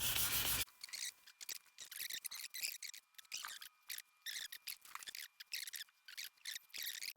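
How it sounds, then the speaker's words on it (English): 2000 grit sandpaper rubs a 1963 Telecaster guitar in quick, close back-and-forth strokes, giving soft rhythmic swishes separated by brief pauses after a short burst of noise at the start. "I'm going to use 2000 sandpaper just to give it an ultra smooth finish."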